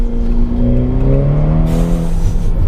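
Ferrari Portofino retractable-hardtop convertible on tight, twisty roads in second gear, its engine exhaust droning loud and close as revs climb and shift, with a steady tonal roar throughout and no talking.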